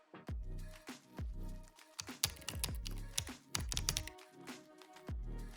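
Typing on a computer keyboard runs in quick, uneven bursts of close, crisp key taps, with brief pauses between clusters.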